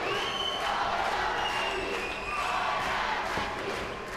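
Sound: crowd cheering at kickboxing fight

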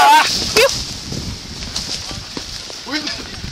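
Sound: dog barking while herding cattle

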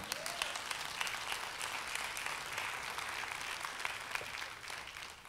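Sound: congregation applauding

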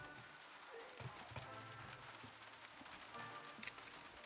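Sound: rain falling in Far Cry 6 video game

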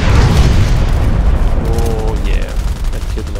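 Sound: mortar explosions in video game Contract Wars

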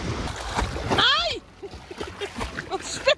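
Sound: water splashing

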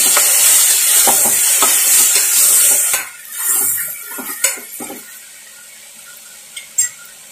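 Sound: tomatoes and sprouted beans frying in a pan

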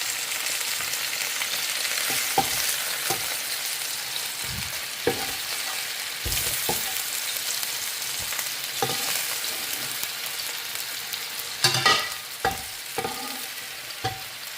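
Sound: curry frying in a pan

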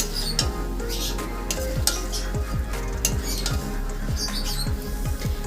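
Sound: stirring spice paste with pumpkin and cauliflower in pan

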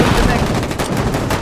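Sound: gun firing in the video game Foxhole

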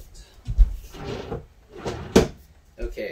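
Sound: convection oven door being opened

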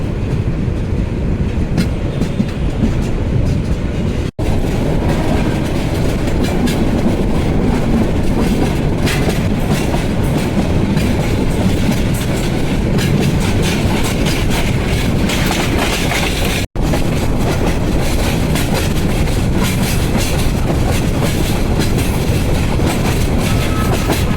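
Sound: Parabat Express intercity train running

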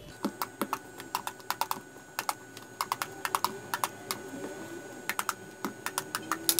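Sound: poking holes in eggplants before roasting them

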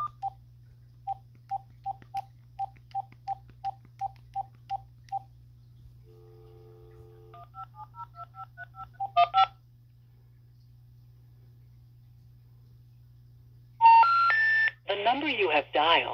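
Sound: telephone DTMF tones dialing a number

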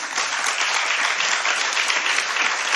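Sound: audience applause

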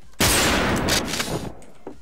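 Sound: gunfire in the video game WolfTeam

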